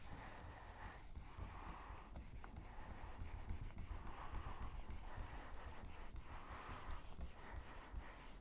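Block sanding in a garage: faint, steady rhythmic rubbing strokes of abrasive on a surface, continuous and low in level, with no speech.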